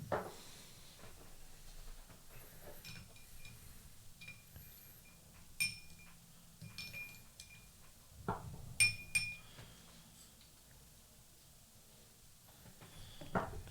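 A stir stick in a glass of whiskey cocktail made with Amaro Montenegro gives faint, sparse clinks and taps against the glass, scattered irregularly over a quiet room hum with no talking.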